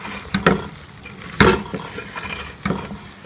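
Cabbage being stirred into fried beef masala in a pan, three distinct scraping stirs with a spoon against the pot, spaced about a second apart, over a soft continuous sizzle.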